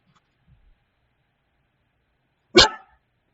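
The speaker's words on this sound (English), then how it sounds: "my dog's barking" A single sharp dog bark rings out once from nearby after near silence.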